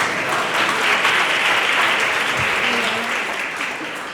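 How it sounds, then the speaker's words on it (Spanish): Loud, dense clapping from an audience at an education event, steady for several seconds before easing slightly toward the end. "así que lo podrían aplaudir"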